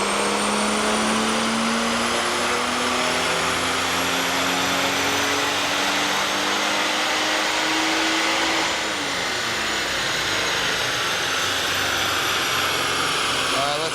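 A BMW E34 with a 3.7-litre M30 stroker inline-six and no catalytic converter runs on a chassis dyno, a loud sustained engine drone with a rising pitch, steady then dropping slightly near the end, with faint voices underneath.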